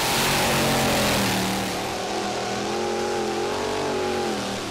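A modified tractor-pulling machine powered by a Chevy 540 engine revs loud and hard at a pulling competition, its tone rising and wavering under sustained strain before easing slightly, with no voices heard.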